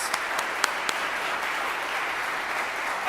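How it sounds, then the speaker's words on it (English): Steady round of applause from a church audience honoring a planning team at a Presbyterian lecture event, dense and sustained for the whole stretch with a few sharper claps standing out near the start. "Would you please give those folks a round of applause?"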